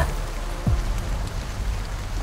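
Steady pouring rain patters on surfaces, loud and continuous, with a dense hiss and a brief low thump partway through.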